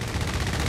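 In the Company of Heroes 3 video game, an aircraft strafing run fires a quick burst of gunfire, dense and rhythmic, as a short rattling volley at moderate loudness.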